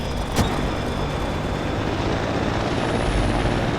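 A propeller aircraft in the video game Trailmakers flies like a helicopter, giving off a steady dense engine and rotor roar that stays loud and constant throughout.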